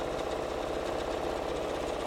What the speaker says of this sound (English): If you have a machine that sews super fast, this will be done so fast.